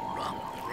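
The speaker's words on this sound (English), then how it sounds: "There's a group of tiny frogs in the trees" Tiny cartoon frogs croak up in the trees, a brief low burbling chirr set over a steady sustained tone, with no voices.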